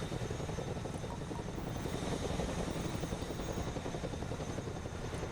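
A cargo helicopter flies in the military game Broken Arrow, its rotor beating in a steady rapid chop under a continuous turbine roar, loud and unbroken from start to finish.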